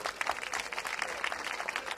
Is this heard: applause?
yes